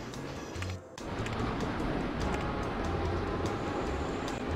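A train leaving a station in the video game Chris Sawyer's Locomotion gives a steady, dense rumbling roar after a brief dip, continuous and moderately loud.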